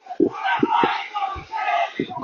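A crowd of protesters chants slogans in loud, rhythmic shouted bursts at a street march on Cox's Bazar Link Road. Voices rise and fall together in repeated phrases with low thumps between them.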